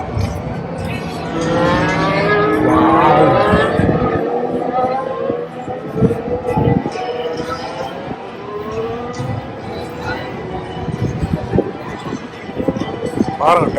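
Formula 1 race car engine at the 2024 United States Grand Prix in Austin, high-pitched rising and falling engine whine passing through amid crowd noise, with a voice talking over it.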